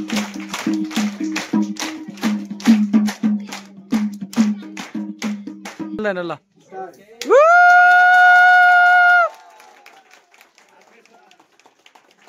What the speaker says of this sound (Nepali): ल ताली बजाइदिनुहोस्।